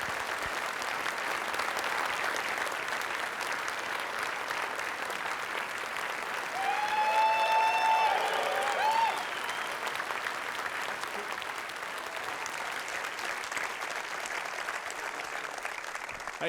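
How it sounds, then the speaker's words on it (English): Studio audience applause on a television talk show as the guest, actor Robert Carlyle, walks to the chair: steady, dense clapping that runs the full length, swelling briefly in the middle while a band plays a short tune, with no talk. "The key thing is always to get the applause for lasting long enough for the star to get to the chair."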